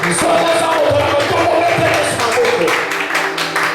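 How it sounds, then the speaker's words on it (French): A church congregation acclaims and cheers, a dense roar of voices, shouts and scattered clapping that keeps going with no letup, heard close and loud. "Si ces ministres qui acclament."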